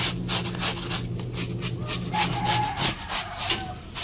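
A brush scrubs dirt from the feet of a two-month-pregnant sow with a fever, making close, steady rhythmic rubbing strokes that repeat at a fairly even pace.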